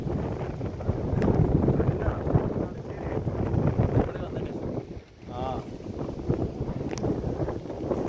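Strong wind blows outdoors near the Chelannur aqueduct, a steady, loud rumbling buffet across the microphone with gusts rising and falling throughout and a brief lull midway.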